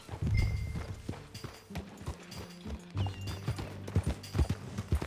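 Horse hooves clip-clop at a steady walking pace in Red Dead Redemption 2, a close, rhythmic string of hollow knocks over a low steady background hum.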